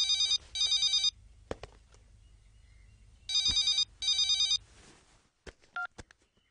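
A telephone rings with two clear double-burst electronic rings, separated by a pause of a couple of seconds. Between and after the rings come a few faint clicks and short tones.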